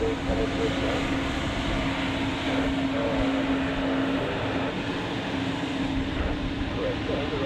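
A Lufthansa jet takes off from runway 28 at Zurich Airport, heard as a steady, broad engine roar with a sustained tonal whine, loud and continuous for the whole stretch.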